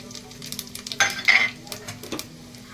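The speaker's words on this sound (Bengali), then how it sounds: "আমি জিরে রাইসের জন্য জিরে দিয়ে দিচ্ছি" Cumin seeds sizzling in hot oil for jeera rice, a soft frying hiss broken by a couple of brief louder crackles and pan clinks, close by with no talk.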